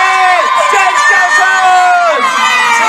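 A crowd cheers and whoops loudly for a singer arriving on stage at an outdoor temple concert night, while amplified music and a voice carry over the noise in a sustained, boisterous roar.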